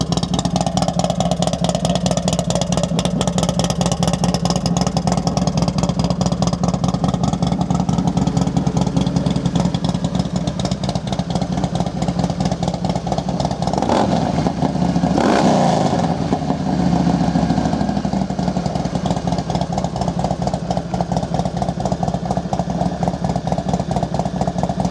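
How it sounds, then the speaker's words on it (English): A fuel-injected Harley-Davidson CVO Softail Deuce motorcycle engine idles steadily and loudly up close, with a brief rise in revs around the middle before settling back to a throbbing idle. "Good, strong running bike."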